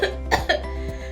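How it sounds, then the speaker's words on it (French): A few short, sharp coughs in quick succession, close and clear, with no talking. "C'est ça, tousser."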